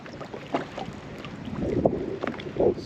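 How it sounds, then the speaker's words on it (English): Wind blowing over West Point Lake during a bass fishing tournament, heard as a steady rushing microphone buffet with gusty swells and faint water and boat knocks, no talking. "And of course, the wind's blowing in on it too."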